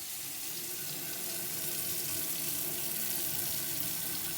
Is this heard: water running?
yes